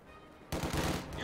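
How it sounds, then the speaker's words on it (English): Sudden dense burst of video game battle gunfire erupting after a quiet moment, a rapid loud volley of overlapping shots. "Taking fire! They've opened up on us!"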